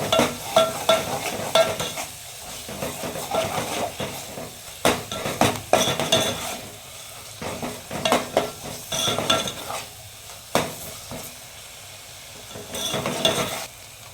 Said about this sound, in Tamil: புதினா மல்லி புதினா மல்லி வச்சுட்டு நல்லா கொஞ்சம் வதக்கி விட்டுருக்காங்க